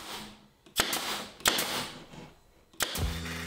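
A pneumatic nail gun drives 3/4 inch nails through beadboard into a cabinet, three sharp, loud cracks spaced about a second apart, each followed by a brief hiss of air.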